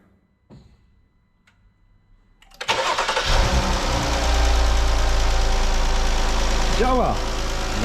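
A Jeep 3.2 V6 engine cranks with a short starter whir after a few quiet clicks, then catches and settles into a loud, steady idle, with a brief rising whine near the end.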